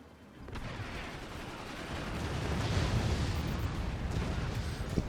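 Weapons fire in the siege game Forts, rising into a dense, continuous roar of booming shots and rumbling impacts that swells after a quiet opening and keeps up steadily without any voices.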